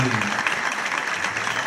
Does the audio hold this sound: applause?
yes